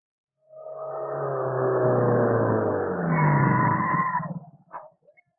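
A car driving off, engine roaring up as it pulls away with a rising whine and a brief tire squeal, loud and close for several seconds before cutting out, no talk.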